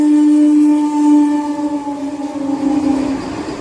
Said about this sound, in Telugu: వందే భారత్ వస్తుంది చూడండి, భువనేశ్వర్ నుంచి విశాఖపట్నం వెళ్లే వందే భారత్